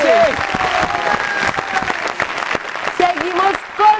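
Studio audience applause for a child who just set a new record on a Colombian children's TV game show, steady clapping with cheering and talk layered over it throughout.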